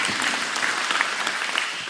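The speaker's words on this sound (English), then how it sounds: "give them a round of applause for hosting" Steady applause from a crowd in a council chamber at a candidate forum, dense and even clapping throughout, fairly loud with no voices standing out.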